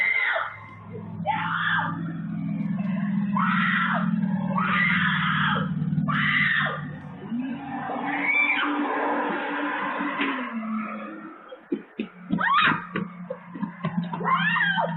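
A woman screams during an attack, shrill and raw, in a run of repeated loud cries over a low hum, then fading into fainter sobbing yells and scattered noises toward the end.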